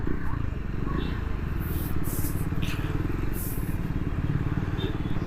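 A Triumph Scrambler 400X motorcycle engine runs at higher rpm with a steady, close, buzzing drone and a constant rumble of road or wind noise beneath it.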